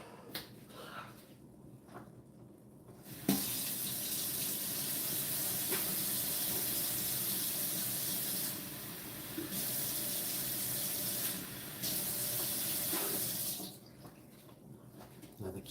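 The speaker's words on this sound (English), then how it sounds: "So I'm gonna add water now." Water pours steadily from a tap into a container for about ten seconds, a broad hiss that starts abruptly, dips briefly twice, then cuts off, with quieter handling noises before and after.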